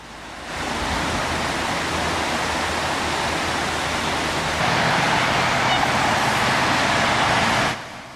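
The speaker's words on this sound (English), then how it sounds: "they have like a creek that goes through here" A creek flowing through downtown Austin, Texas, near I-35 gives a steady broadband rushing wash, constant and fairly loud, with a slight swell toward the end before it cuts off.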